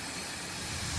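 Air suspension bags on the back of a truck let down with a steady, close hiss of escaping air that holds unbroken throughout and grows slightly louder toward the end.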